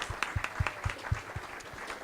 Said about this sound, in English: just give her a round of applause along with the kids